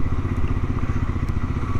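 A Triumph Scrambler 400X motorcycle being ridden on a road, its engine a steady, loud, close mid-pitched drone with rumbling texture and no voices.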